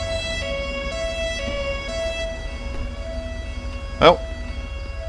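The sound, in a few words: police sirens in GTA 5 (video game)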